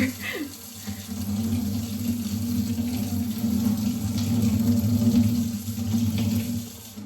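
Warm water runs steadily from a kitchen tap in a cottage, filling for a focaccia dough, a continuous close splashing stream lasting the whole stretch with no talk over it.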